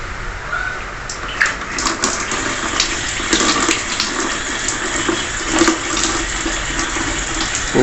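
Water splashes and pours steadily over a gemstone to wet its surface, a close, continuous rushing stream with small irregular spatters.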